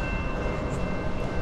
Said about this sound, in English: Train 29G, hammer down westbound.